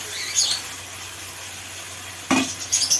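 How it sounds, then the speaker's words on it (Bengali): Chicken added to hot oil and masala in a pan, a short sharp hiss and stir-scrape near the end, following a quieter simmering sizzle. "এই যে মশলা থেকে আমার তেল ছেড়ে গেছে, এবার দিয়ে দিচ্ছি চিকেনটা,"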